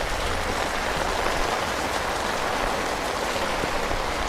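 Steady, dense rain hisses evenly onto a car parked in the open, a continuous close wash of drops with no voices.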